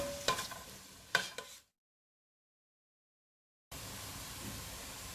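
Garlic and green chili stirred in a frying pan for a Kerala chicken roast, giving a soft sizzle with a few sharp scrapes early on, then a gap of silence before a steady frying hiss resumes.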